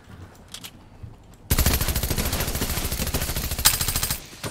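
Micro UZI fire in Fortnite: after a quiet stretch with faint game sounds, a loud, rapid, sustained burst of automatic gunfire rattles for nearly three seconds before cutting off, up close, with no talking.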